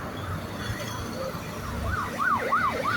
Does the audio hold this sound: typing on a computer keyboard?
no